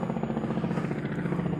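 A helicopter passes low overhead, its rotor chopping in a steady, rapid, loud pulse with no voices.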